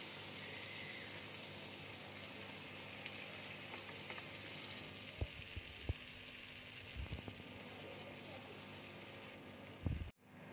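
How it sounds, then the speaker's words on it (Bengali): Bread laid into butter in a pan for garlic bread gives a steady, soft frying sizzle throughout, with a few brief clinks and scrapes from utensils near the middle and a louder knock close to the end. "আমি একটু বাটার দিয়ে দিচ্ছি। এবার পাউরুটিটা এর মধ্যে দিয়ে দিচ্ছি।"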